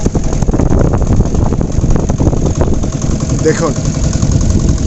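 A boat's engine runs steadily and fairly close throughout, a continuous low motor drone carrying on while someone speaks over it.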